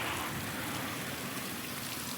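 Water gushes and splashes steadily from a damaged, scratched pipe, a loud, continuous hiss and patter like heavy rain with no pause across the whole stretch.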